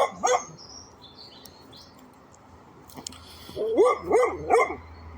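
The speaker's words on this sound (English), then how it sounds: "my dog's barking at me because she's lost where I was" A female dog barks nearby in a few short yelps at the start and again near the end, with a quiet indoor background between barks.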